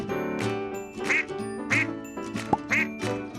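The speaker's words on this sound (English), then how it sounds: "Duck." A duck quacks several times in a row, clear and close, over a light tinkling jingle in the background.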